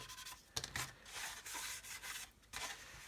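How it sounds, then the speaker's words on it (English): Hand-sanding filler on a plastic model aircraft kit, short rasping scrub strokes in uneven bursts with brief pauses between, close and quiet. "Just do some more sanding there to get rid of that one."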